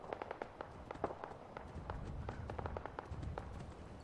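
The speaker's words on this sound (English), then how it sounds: "Okay, I hear automatic gunfire." Rapid, irregular cracks of automatic gunfire in the video game Fallout 4, fairly quiet and steady over a low rumbling background, with no talking.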